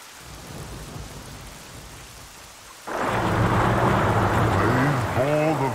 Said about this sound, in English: It was a storm as none aboard had ever seen.